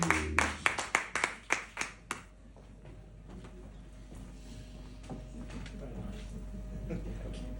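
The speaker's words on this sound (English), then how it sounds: "Round of applause" A short run of sharp, distinct claps from a small audience welcoming a speaker to the stage, about eight quick claps that fade out after two seconds into a low room murmur.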